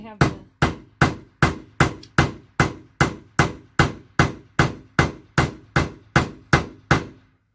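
Sharp, evenly spaced hammer blows, about sixteen in a row, ring out close by as a windshield wiper transmission is driven into place on a 1998 Dodge Van 1500.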